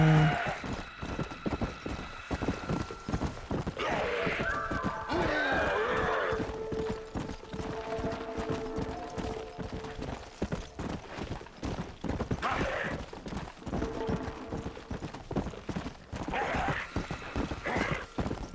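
Horse hooves clip-clopping in steady rhythm while riding in Red Dead Redemption Undead Nightmare, with occasional whinnies and other game sounds around the galloping, close and continuous.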